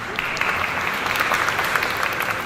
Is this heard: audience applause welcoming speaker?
yes